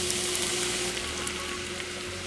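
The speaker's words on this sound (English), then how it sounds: "We'll go ahead and put in the crushed tomatoes" Crushed tomatoes simmer into a pan of pizza casserole sauce, giving a steady, even sizzle and bubbling hiss that stays close and moderately loud throughout, with no voices over it.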